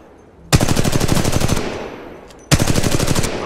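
Rapid automatic weapon fire in the video game Titanfall 2, two loud sustained bursts of fast shots separated by a brief gap, close and dominant.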